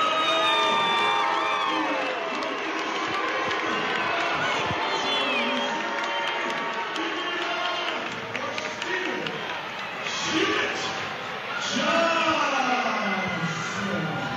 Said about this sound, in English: the boos got a little bit louder